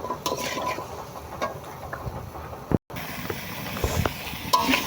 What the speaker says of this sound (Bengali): দিয়ে ভালো করে নেড়ে চেড়ে কষিয়ে নেব।